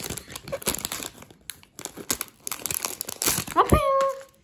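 Plastic packaging on a Pokémon card lunchbox is torn and unwrapped close by, in bursts of loud crinkling and crackling, with a brief voice near the end.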